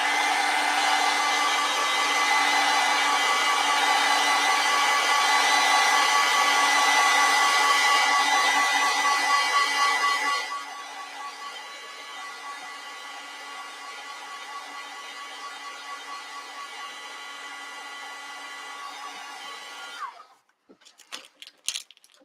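A hair dryer blows loud and close on wet acrylic paint, dropping to a lower setting about halfway through before being switched off near the end, with no talking.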